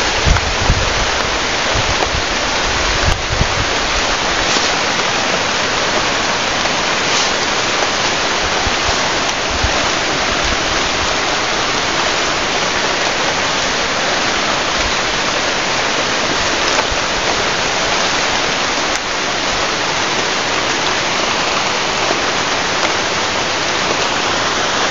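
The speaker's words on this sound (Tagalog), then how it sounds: "Mga lods, sobrang ulan dito no." Heavy rain pours down steadily in a tropical setting, a dense continuous hiss with no talk over it.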